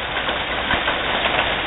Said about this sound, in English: As you can probably hear, it's raining a bit.